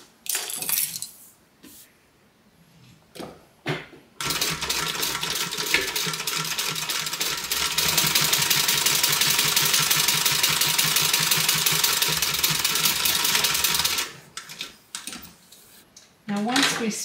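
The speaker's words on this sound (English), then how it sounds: "And now we're going to stitch it." A sewing machine stitches a pocket, running continuously for about ten seconds with a dense, rhythmic mechanical chatter. Brief knocks and handling sounds come before and after the run.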